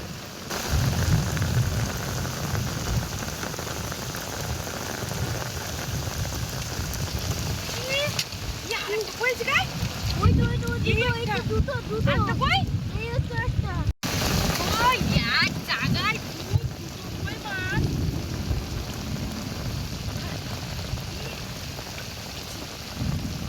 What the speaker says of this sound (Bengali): মুষলধারে বৃষ্টি হচ্ছে আর ওদিকে কিন্তু বিদ্যুৎ চমকাচ্ছে খুব জোরে